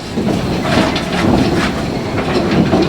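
Small zoo train rolling on rails at ZSL Whipsnade Zoo, a loud close clickety-clack rumble with regular wheel beats throughout, no talking.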